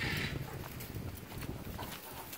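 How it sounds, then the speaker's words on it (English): Miniature horses shuffle about at a roadside attraction during spring cleaning, giving soft, faint hoof clops and scuffs against a quiet outdoor background. "All of the mini horses were quite taken with Xander."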